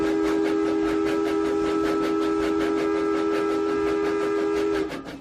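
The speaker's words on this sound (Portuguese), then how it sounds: "E apitou, vindo em sentido inverso," A long, steady steam-train whistle holds its tone over the rhythmic clatter of a passing train, loud and close, then cuts off near the end as the rumble fades.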